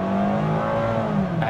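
A 2023 Mazda MX-5 Miata RF GT pulls away from a stop sign, its engine note rising steadily as it accelerates, heard close and fairly loud with no talking.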